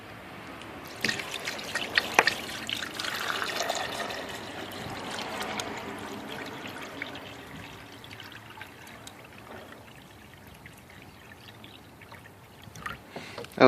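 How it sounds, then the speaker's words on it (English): Water splashes and trickles steadily into an ultrasonic cleaner tank, a broad rushing wash that eases off toward the end, with faint drips. "I'm just about to fill it up with some water"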